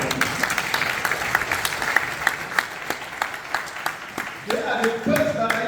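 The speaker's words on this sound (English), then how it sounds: "Give a round of applause." An audience at a Makerere University public lecture on the environment and climate entrepreneurship claps steadily, with crisp individual hand claps over a continuous applause bed. Speech begins near the close.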